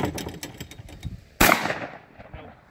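A single sharp shotgun blast at a clay target shoot, loud and close, cracking out at once and decaying over a second, preceded by a quieter outdoor bustle.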